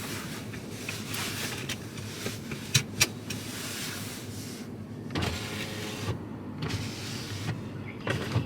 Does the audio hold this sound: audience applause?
no